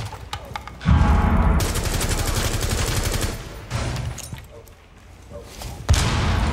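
Loud bursts of automatic gunfire ring out in the tactical shooter Rainbow Six Siege, with rapid fusillades separated by brief pauses and heavy thuds, all close and prominent.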